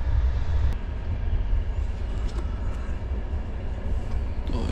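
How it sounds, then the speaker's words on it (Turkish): Inside the Doğu Ekspres passenger train in Turkey, the carriage rumbles steadily along the rails with a low continuous roar and occasional clicks and rattles, no voices. "Trendeyiz şu an."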